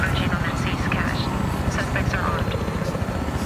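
Steady rotor and engine drone of a helicopter in the video game Battlefield Hardline, a constant low thrumming roar that stays close and even, with a player talking over it.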